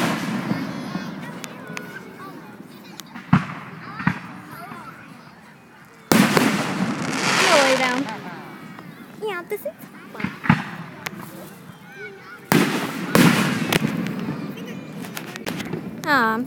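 Fireworks go off at a nighttime firework show: several sharp, loud bangs and crackling bursts at uneven intervals, with people talking and exclaiming between and over them.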